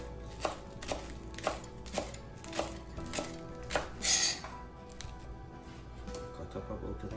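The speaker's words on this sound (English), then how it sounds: "cut up about a tomato or two" A knife chops a tomato on a cutting board for beef curry, making about eight evenly spaced, crisp thuds followed by a brief scraping swipe, close and clear, with no talking.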